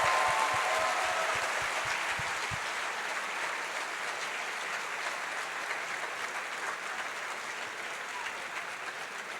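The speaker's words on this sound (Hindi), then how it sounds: "जितनी तालियां आपने अली के लिए बजाईं उससे थोड़ी सी ज़्यादा आर्केस्ट्रा के लिए बजा दीजिए" Concert audience applauds an orchestra at a tribute evening, a dense sustained wash of many hands clapping that carries on steadily throughout, with a few heavier low thumps near the start.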